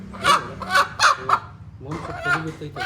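Several loud, honking clucks from a bird close by, in quick bursts, then a busier stretch of squawking and cackling.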